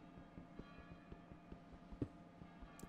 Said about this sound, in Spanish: Están sonando ahí las campanas de la iglesia.